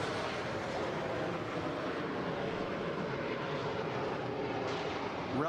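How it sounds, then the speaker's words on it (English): An early jet aircraft takes off, a broad steady roaring engine rush heard from some distance, unbroken throughout with a slight swell at the end. "Relatively short takeoff roll. Like all early jets."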